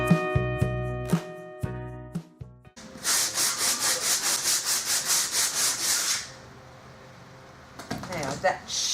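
Hand sanding of a wooden table with coarse 80 grit sandpaper gives rhythmic back-and-forth scraping strokes, close and fairly loud, after a few knocks and clatters, with a short burst of rubbing near the end.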